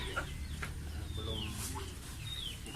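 Pelung chickens cluck and call at a chicken farm, with several short clucks and rising calls scattered over steady background noise and some talking nearby.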